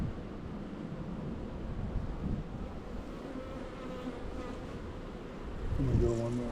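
A dense, steady hum of many bees buzzing up close, with a low droning undertone throughout.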